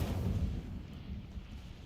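A fire spell cast in a Harry Potter video game bursts out as a low, rumbling whoosh of flame that swells at the start and then holds as a steady roar, with no voices.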